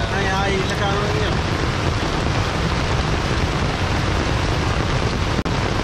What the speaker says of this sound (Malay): Kita tunggu hujan berhenti dulu.